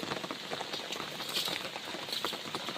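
Steady rain falls in the Maredumilli forest, a dense, even hiss of drops pattering on surfaces close by, with no voices over it.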